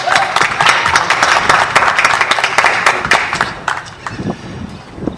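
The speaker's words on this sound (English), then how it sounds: "let's give our vets a big round of applause" Crowd at a Tax Day rally clapping for veterans, loud close claps with distinct sharp hits over a dense background, thinning out toward the end.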